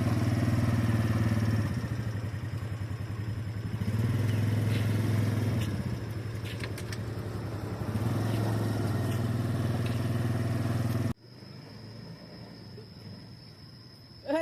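A 130cc three-wheeled motorcycle runs steadily with a loud low engine drone and surging throttle for about eleven seconds, then cuts off abruptly, leaving a quieter background with faint insect chirping.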